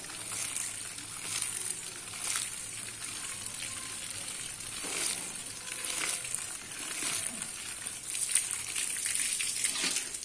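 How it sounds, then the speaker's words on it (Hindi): Water splashes continuously into a starch mixture while traditional nishasta is made in a Pakistani village kitchen, a steady gushing, sizzling wash with no talk. "अब इसमें पानी डालना है बस"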